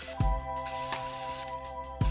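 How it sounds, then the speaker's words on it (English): A steady spray of high-gloss clear glaze onto pottery hisses continuously over a background hum, broken by a few faint clicks near the start and end. "clear glaze is what you want. I got really high gloss, and you're just going to spray everything."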